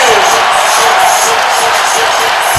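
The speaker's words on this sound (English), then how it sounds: "this crowd is going wild" Loud, dense roar of a basketball arena crowd cheering during a timeout in a Michigan vs Michigan State game, a sustained wash of noise with no break.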